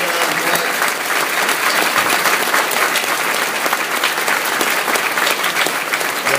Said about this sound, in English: I really want a big round of applause for John